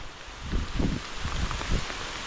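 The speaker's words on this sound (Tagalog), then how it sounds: "Patay tayo na to, lumakas ang ulan." Heavy rain pours steadily near a mountain cave, a dense hiss of drops striking surfaces close by, with gusty swells in loudness.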